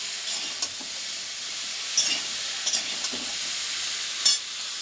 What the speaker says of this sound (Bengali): এখানে সজনে ডাটা আলু আর টমেটো দিয়ে একটা তরকারি করছি